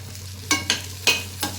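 Corn kernels fry in a pan as four quick scraping strokes of stirring rise above a faint, steady sizzle and a low electrical hum, close and without voices.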